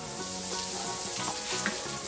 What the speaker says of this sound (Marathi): हे मीठही या तेलामध्ये तळलं गेलं पाहिजे.